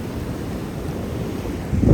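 Ocean waves rolling onto a shoreline, with a steady wash of surf and wind buffeting the microphone, then a louder surge of water breaking near the end.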